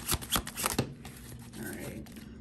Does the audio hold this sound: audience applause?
no